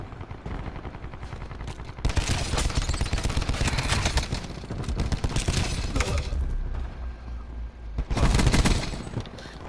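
Rapid gunfire from a weapon in Black Ops 4's Apocalypse Z operation, dense bursts of shots filling most of the stretch, loudest near the end, with a quieter lead-in.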